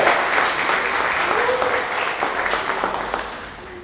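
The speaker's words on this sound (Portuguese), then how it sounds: "Dê um aplauso ao Senhor e glorifique o nome dele nessa manhã" Church congregation applauding during a Portuguese-language service, a sustained wash of clapping that stays strong and slowly fades toward the end, with faint voices underneath.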